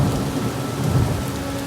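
Heavy monsoon rain pours steadily in Oaxaca, a dense roaring wash with a low thunder rumble underneath throughout.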